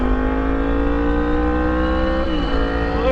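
A Yamaha MT-10 motorcycle engine fitted with an Austin Racing exhaust idles close by with a rich steady drone, then blips briefly higher before settling back, loud and alone.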